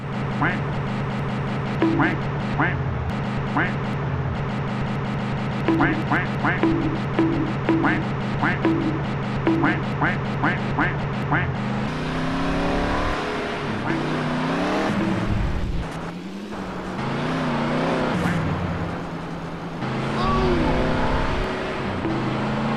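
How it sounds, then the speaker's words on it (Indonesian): Exhaust backfire from a vehicle in a GTA San Andreas Android mod using the ModelExtras plugin: a string of sharp pops over a steady engine drone, followed by louder revving and passing engine sound. "Sekarang, efek backfire memiliki 2 variasi sound efeknya."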